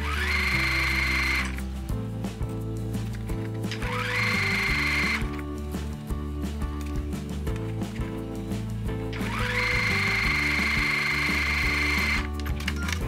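A sewing machine stitches seams through two layers of sheer hanbok fabric, loud and close, running in long steady bursts with a whirring motor and brief pauses between runs, no talk.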